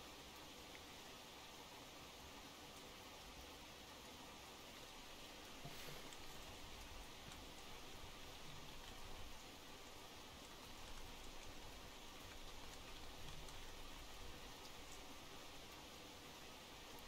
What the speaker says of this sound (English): This rain must be really miserable.